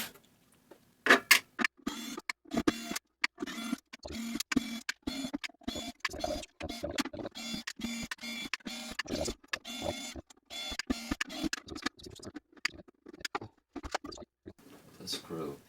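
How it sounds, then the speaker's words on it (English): Screws are backed out of the case of an Adcom GFA-555 power amplifier, with a dense run of close, scratchy ratcheting clicks and squeaks continuing steadily throughout. "start to unscrew everything"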